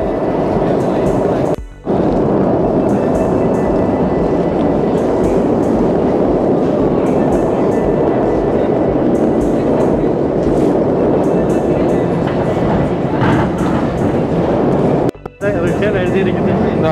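A new-model Moscow Metro train roars loudly and steadily as it runs through the underground, with rattling wheels and a dense rumble that dips briefly twice.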